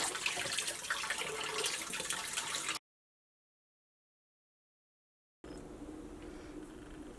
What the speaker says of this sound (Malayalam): എന്നിട്ട് ഇങ്ങനെ വെള്ളം നന്നായിട്ട് തുറന്നു വിടാം